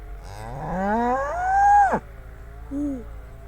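A cow lets out a loud, rising moo up close on a hillside farm, followed by a shorter, softer second moo.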